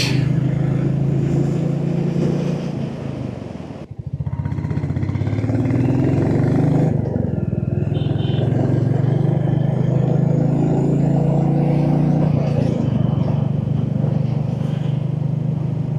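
A Royal Enfield Classic 350cc motorcycle's single-cylinder engine thumps steadily while riding, a loud, close, continuous low throb with a brief dip near the start and wind rushing over it.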